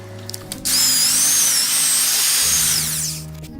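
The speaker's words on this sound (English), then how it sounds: "we're going to mix that up with the electric drill" A power drill whirs loudly for about three seconds, its pitch wavering as it churns thick self-leveling underlayment mortar, then winds down.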